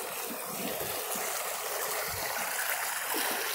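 A flooded creek rushes past rocks, its water roaring and churning in a continuous, loud wash with gurgling swirls, heard close with no voices.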